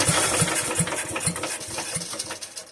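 An antique McCulloch generator engine, once flooded in a basement and now choked, sputters as it tries to start, with a rhythmic chugging of uneven firing pulses that stays close and moderately loud.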